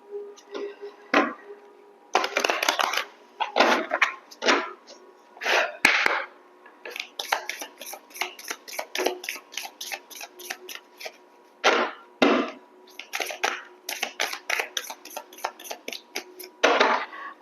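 A deck of oracle cards being cut and shuffled, with quick papery riffles and flicks in bursts separated by short pauses, close and clear with no talking.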